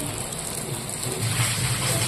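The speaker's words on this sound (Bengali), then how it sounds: "আর বাইরে ঝরঝর করে বৃষ্টি হয়ে যাচ্ছে।" Heavy rain falls outside in a constant, dense patter. The hiss stays steady throughout and is heard from somewhat indoors.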